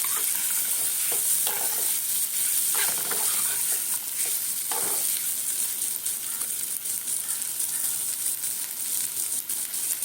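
Paneer cubes fry in melted butter in a pan while being stirred, giving a steady, close, dense sizzle with occasional scraping strokes throughout and no talking.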